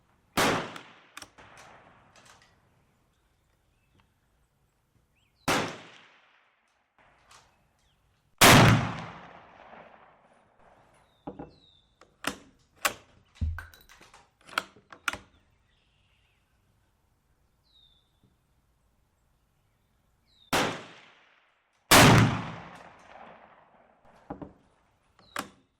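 Two loud, sharp rifle shots from a tube-magazine rifle ring out alone, well apart, each followed by a brief echo. Quieter clicks and clacks of the action are heard between them.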